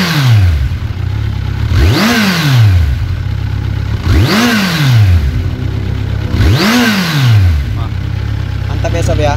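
A Kawasaki Z1000 motorcycle engine idles, then revs in three strong blips that rise and fall at a steady pace, loud and close, with a rough idle between them.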